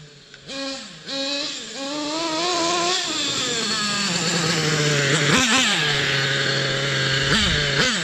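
A Thunder Tiger EK4 S2 nitro RC monster truck fitted with a custom Pro 70BX engine runs loud and close, its high, buzzy two-stroke whine rising and falling through repeated throttle blips before settling into a steady high idle, with no talk.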